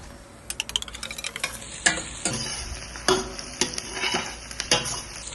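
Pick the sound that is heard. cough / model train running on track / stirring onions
stirring onions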